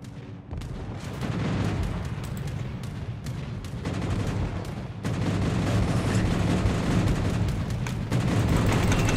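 Bombs explode in a naval warship video game, with dense, loud, rumbling blasts that come one after another in continuous heavy bursts.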